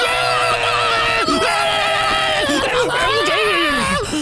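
A loud, continuous shrill voice imitates a screaming chicken, with wavering high-pitched squawks and cackles running without pause for several seconds.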